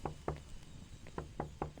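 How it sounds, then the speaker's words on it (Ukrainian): Several distinct knocks on an apartment door arrive in an uneven rhythm of single and paired raps, fairly faint and muffled as if heard from another room, with no talking. "І опять хтось стукає."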